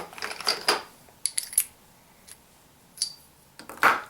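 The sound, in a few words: 30-06 brass cases dropping into a gauge tool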